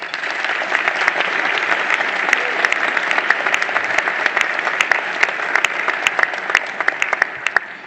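Banquet audience applauding head table guests at a formal Toronto business luncheon, sustained dense clapping with sharp individual claps standing out throughout, steady and close.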